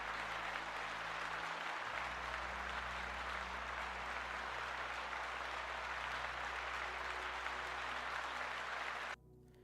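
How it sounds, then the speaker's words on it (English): Applause on a livestream, a dense, steady wash of clapping over a low hum that lasts several seconds and then cuts off abruptly. "Chat, round of applause, please."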